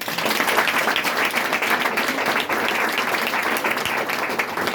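Sustained applause from a church congregation, dense and steady throughout, with no speech standing out.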